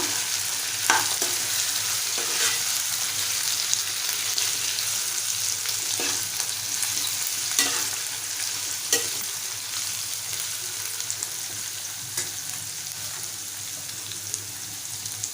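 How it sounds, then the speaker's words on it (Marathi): Brinjal being stir-fried in a pan, cooked in the Malvani style: a soft, continuous sizzle runs throughout, broken by repeated scraping strokes of a spatula at an uneven pace. No one speaks. "झाकण उघडूया छान परतवूया"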